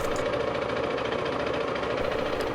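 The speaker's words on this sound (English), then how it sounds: "the tick over was a fairly clunky sound from the single engine" A Zontes ZT350-T 350cc single-cylinder motorcycle engine idles with a steady, slightly clunky tick-over, loud and close throughout with no talking.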